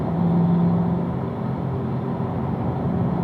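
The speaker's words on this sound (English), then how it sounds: "We'll upshift to fourth gear and continue to accelerate through the kink." A car on a race track upshifts into fourth gear and keeps accelerating through a kink, giving a smooth, steady engine hum with a faint tonal whine heard from inside the cabin, with no talking.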